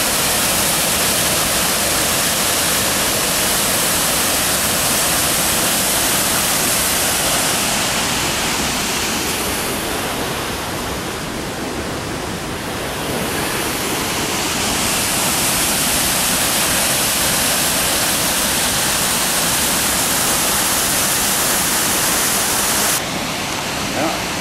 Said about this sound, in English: Give you a closer look at the falls